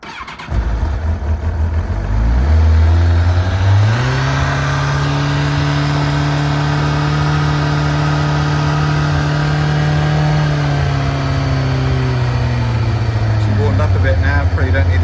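A 1998 Kawasaki ZX6-R sport motorcycle engine running on choke: a loud, close, steady idle that climbs in pitch early on, holds a high, even note, then drops slightly near the end, with no talk.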